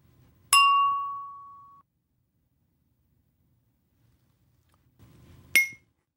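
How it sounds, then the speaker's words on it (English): A wine glass is struck and rings with a clear, sustained tone that slowly fades. After a pause, a teacup is struck and gives a shorter, duller ring. "Here is a wine glass and a teacup. Let's make each vibrate."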